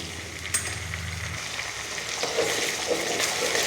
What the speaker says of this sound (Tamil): பச்சை சுண்டக்காய் காம்பு நீக்கி வாஷ் பண்ணது கைப்பிடி அளவு சேர்த்தா போதும் இது சுருள்ற அளவு வதக்கணும்